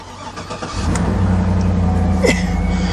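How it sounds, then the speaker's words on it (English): A Cadillac with a newly installed starter and a low battery cranks briefly, then the engine catches and settles into a loud, steady idle close by. "And now she cranks."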